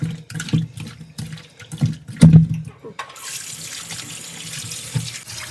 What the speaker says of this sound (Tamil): நல்லா கழுவிக்குவோம்.